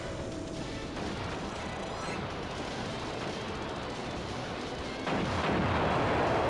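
Dense, continuous roar of bomb explosions and heavy shot fire from the arcade shooter DoDonPachi, a steady wall of blasts that swells louder near the end, with no voices.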